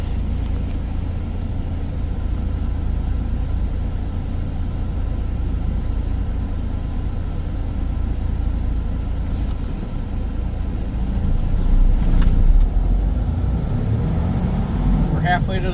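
Steady low engine rumble and road noise inside a Freightliner truck cab while driving to a body shop, continuous and fairly loud with a slight swell near the end.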